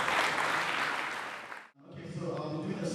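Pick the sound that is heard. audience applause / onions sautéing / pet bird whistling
audience applause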